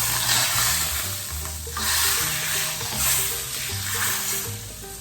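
Hot butter, oil and Kashmiri chili poured over cooked chickpeas sizzle loudly, a close, dense hiss that swells in waves, with low clinking and scraping of utensils underneath and no voices.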